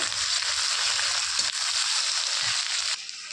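Onions fry in a pan with a loud, dense sizzle, a few scraping stirs audible close up under the steady crackle.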